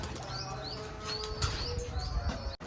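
Wings flap in quick bursts as pigeons take off, with a few faint chirps in the background and no talk.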